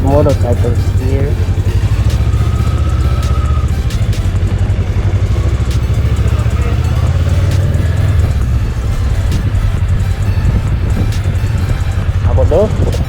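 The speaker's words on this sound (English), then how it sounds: "Lots of motorcycles here." Many motorcycles rumble nearby at a Benelli motorcycle event in Cyprus, a loud continuous low engine drone with passing revs, while a rider's voice and other talk are heard over the wind-buffeted roar.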